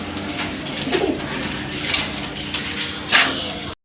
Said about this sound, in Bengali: আরেক জোড়া কবুতর আছে এটা হচ্ছে আপনার জাক কবুতর